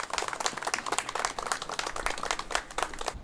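An indoor audience at a handover ceremony for a painting in Daegu gives a scattered round of clapping, with individual claps distinct and moderately close throughout.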